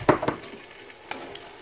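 Potatoes and eggs are stirred in a frying pan: two quick scraping strokes up close, a faint sizzle, then a couple of lighter scrapes.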